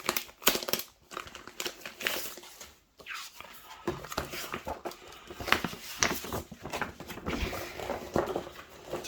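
A paper game mat from a Kill Team starter set is unfolded and handled close by, giving irregular crinkling, rustling and crackling bursts with soft pauses between.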